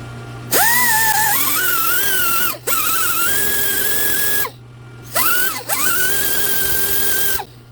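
A power tool spins a sanding disc, ground down to anvil size, against the wheel hub of a 2007 Honda Ridgeline during a front brake job, whining loudly in three sustained bursts with brief pauses and pitch dips as it bites.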